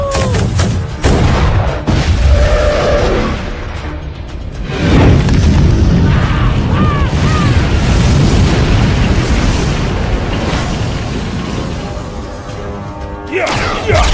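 Shooting and explosions in a 2014 animated film, a dense run of booming blasts and gunfire-like bursts filling the scene at high loudness, with shouted voices mixed in.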